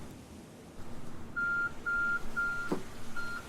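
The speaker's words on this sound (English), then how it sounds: "oh, there's the 30-minute alarm" A 30-minute alarm in a game sounds as a string of short, clear electronic beeps in an even rhythm over a low background hum.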